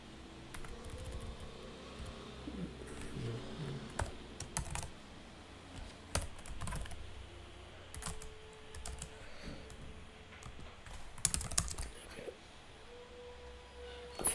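Computer keyboard typing during a Python coding lesson, a steady run of quiet close key clicks with bursts of faster presses over a low fan-like hum, no talking.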